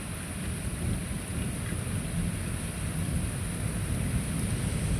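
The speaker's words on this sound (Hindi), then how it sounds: "बारिश लगी हुई है" Steady rain pours down in a dense, even hiss with a low rumbling undertone, continuous throughout with no voices.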